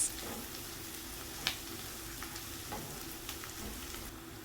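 Desiccated coconut stir-frying with onions in a pan for a vegetable sabzi, a steady soft sizzle with faint scraping stirs and one brief clink, heard alone without talk.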